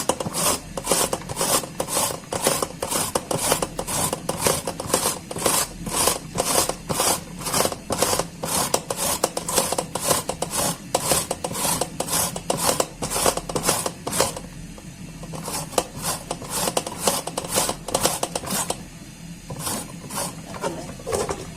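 Fresh carrots are rubbed against a metal hand grater for carrot payesh, giving a fast, steady series of rasping scrapes that continue close and loud with a couple of short pauses.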